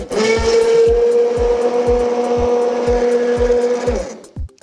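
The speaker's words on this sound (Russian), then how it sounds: "тут блендер." A blender purees corn and spinach soup, whirring loudly and steadily for about four seconds with rhythmic thumping pulses, then spins down and stops.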